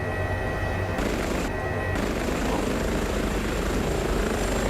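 Airbus H145 helicopter in a flight simulator, rotor and turbine drone steady and loud throughout with dense rhythmic thumping, a brief dip in high-end hiss around the first two seconds; no talking.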